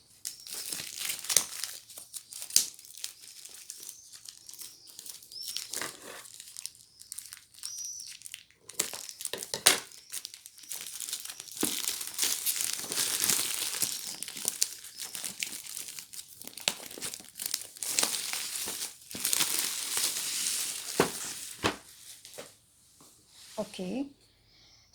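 Crinkly plastic wrap being pulled off and crumpled from a box of Zenacolor colored pencils, a long run of close, uneven rustling and tearing bursts with brief pauses, continuing most of the way through.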